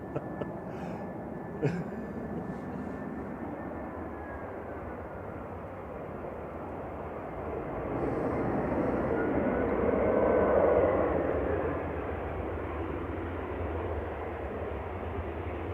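A Eurowings passenger airplane taxis at Manchester Airport, its steady jet engine hum heard from a distance, swelling gently and then easing off, alone without talk.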